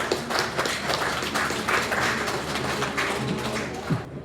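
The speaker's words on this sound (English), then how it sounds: "I think it's time for applause." A crowd at a motocross press conference applauds in a dense, steady patter of clapping that stays fairly even for a few seconds and fades slightly at the end.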